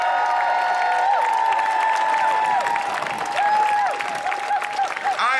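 An audience at a Moral Monday gathering applauds and cheers for Reverend Barber, with dense sustained clapping and crowd noise while a loud, close whistle-like tone rises and falls repeatedly over it.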